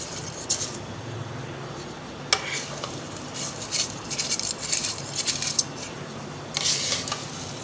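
A spoon stirring vermicelli while it roasts in a pan, with repeated close metallic scrapes and clinks over a light sizzling background.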